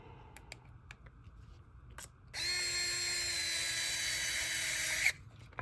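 An electric screwdriver drives a screw while fitting a motor into a 1/10 scale RC crawler, with a few faint clicks and then a high, steady motor whine that lasts about three seconds, close and clear, before cutting off.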